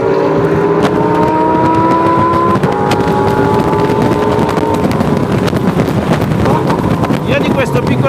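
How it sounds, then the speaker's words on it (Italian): A deafening V10 engine on the car ahead during a track day, heard from a Dallara Stradale. It drones with a steady, rising note under heavy wind rush throughout. "Sento solo il vento e questo V10 assordante davanti."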